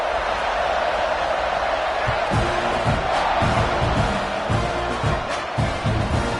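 A football stadium crowd at a Texas A&M versus UCLA game roars in a steady, dense wash after a score, with scattered shouts and whoops rising above the constant buzz, heard close and loud.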